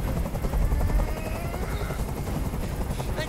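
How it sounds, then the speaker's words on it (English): In the video game Detroit: Become Human, a helicopter hovers close by with a loud, rapid rotor chop and throbbing engine drone that holds steady throughout. "I can't stand that noise anymore. Tell that helicopter to get out of here."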